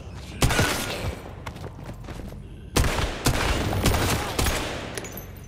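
A zombie firing a pistol in the video game Once Human, a handful of sharp, loud shots at irregular intervals over a steady background rumble.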